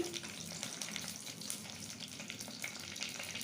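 Mustard seeds and cumin sizzle in hot oil in a clay pot, a steady close crackling fry with tiny pops throughout and no talk.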